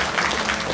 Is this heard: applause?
yes